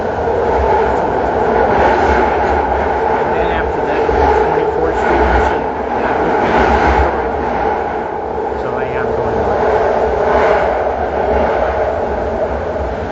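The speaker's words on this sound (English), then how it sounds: "This train goes really fast, like 60 miles an hour underneath the city." A San Francisco BART underground train roars along at about 60 mph, a steady loud rumble and rattle filling the whole stretch without letting up.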